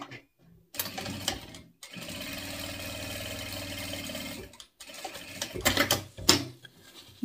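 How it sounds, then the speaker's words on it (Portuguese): Sewing machine running a finishing seam on a bag's lining, a close steady mechanical whirring burst of stitching for several seconds, followed by shorter stop-and-start runs and handling clatter. "aqui a gente vai passar uma costurinha de acabamento."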